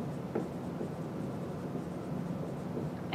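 Pencil or pen scratching steadily across paper while a math explanation is written out, a quiet continuous scribbling texture with small strokes and pauses and no talking.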